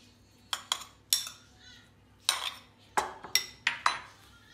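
A spoon clinks and scrapes against a bowl while a bulgur salad with beets and chicken is mixed, producing a quick series of sharp, close taps in irregular bursts.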